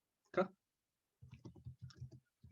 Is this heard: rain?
no